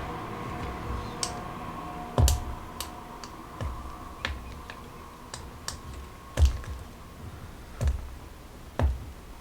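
Scalpel trimming a plastic Deathwatch Terminator model part, giving a run of small sharp clicks and snips at irregular intervals, close and fairly quiet, with a few louder taps standing out and no talk.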